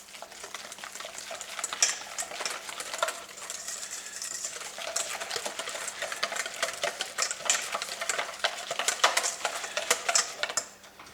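A whisk or spoon stirs hot milk into a frangipane cream mixture in a bowl, giving a steady run of close, rapid scraping and clicking strokes throughout, with no voices.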